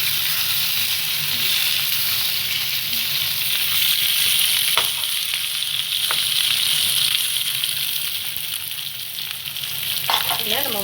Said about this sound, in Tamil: இப்போ ப்ரௌன் ஆனோடனே நம்ம உருளைக்கிழங்கு போட்டுடலாம்.